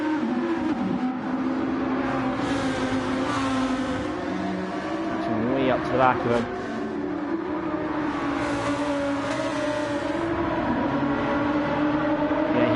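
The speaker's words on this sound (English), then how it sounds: "he's got a train of 5 cars directly behind him" GT1 race cars from a racing game run at Trial Mountain, their engines droning together in a steady close pack with a brief surge of revving, under continuous commentary.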